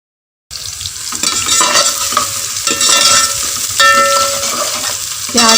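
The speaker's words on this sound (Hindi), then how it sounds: "प्याज को हमने गोल्डन फ्राई करना है।" Finely chopped medium onions fry in ghee in a pan, giving a loud, steady close sizzle, broken by scraping stirs.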